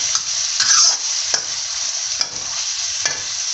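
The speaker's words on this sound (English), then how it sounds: "And then we're going to add 1 bunch of spring onions that have been chopped up. Just stir those in." Chopped spring onions are stirred into Korean-style pork noodles in a hot pan. Steady frying sizzle runs throughout, broken by a few scraping strokes of the utensil, close and clear, with no voices.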